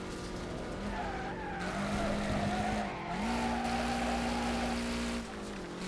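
Car drifting in the Wreckfest racing game, with long sustained tire squeals that rise and shift in pitch over a loud engine drone, near and continuous, no talk.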